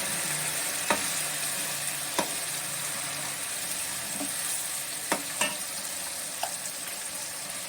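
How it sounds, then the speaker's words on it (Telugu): Ginger garlic paste sizzles in hot oil for an amla pickle, a constant close frying hiss broken by a few scattered clicks and taps from stirring. "అల్లం వెల్లుల్లి పేస్ట్ వేస్తున్నాను"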